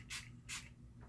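Two quick hissing bursts of dewy finishing spray misted onto the face, each short and close, followed by quiet.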